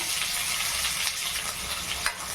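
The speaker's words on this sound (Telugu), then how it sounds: "దాని తర్వాత సన్నగా తగిన ఆనియన్స్ అయితే వేసేసుకోండి" Finely chopped onions and cumin seeds sizzling in a hot pan while being stirred, a dense steady hiss with occasional spatula scrapes, close up and without talk.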